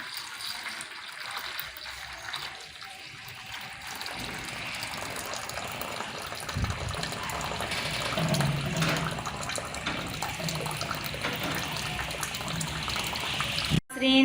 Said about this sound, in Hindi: अब हम इस देगची को नीचे उतारेंगे और अच्छी तरह से पानी निकाल लेंगे।